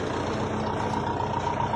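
Water tanker truck on a village road, a steady close low engine rumble with a constant drone and no pauses.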